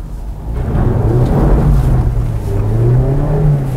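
A Mazda MX-5 RF accelerating hard, its engine note building into a loud, close, rising growl that holds steady for several seconds.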